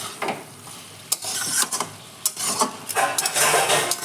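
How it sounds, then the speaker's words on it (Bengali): Cabbage curry cooking down in a pan is stirred with quick, uneven scrapes and shuffles of a spatula over a soft sizzle, close and fairly loud. "একটু নাড়াচাড়া করে আমার বাঁধাকপির ঘন্টটা হয়ে যাবে"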